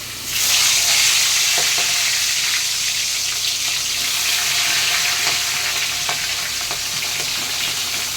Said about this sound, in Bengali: এদিকে দেখুন কড়াইতে আমার তেল গরম হয়ে গেছে। এই মাছগুলোকে আমি একটু হালকা করে ভেজে নেব।